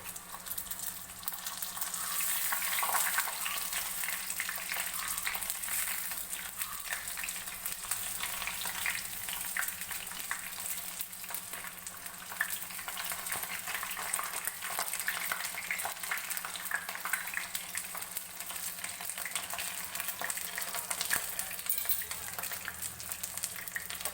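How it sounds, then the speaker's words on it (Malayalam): Food fries in hot oil with a steady, dense sizzle that runs unbroken and fairly loud, with light stirring and a faint low hum underneath, and no one speaking. "ഇനി ടീ എണ്ണ കുറച്ച് വെച്ചിട്ട് നമുക്കിത് ഓരോന്നായിട്ട് നീക്കി ഇട്ട് ഇളക്കി ഇട്ട് കൊടുക്കാം"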